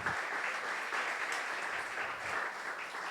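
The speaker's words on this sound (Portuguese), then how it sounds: "Você pode aplaudir ao Senhor?" Church congregation applauding during a sermon, a steady, even wash of many hands clapping throughout, moderately distant and without talk.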